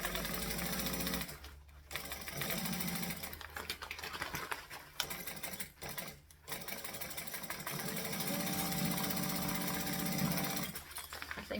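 A sewing machine stitches fabric coated with Odicoat in a fast, close mechanical rattle that runs in bursts, stopping briefly several times before starting up again.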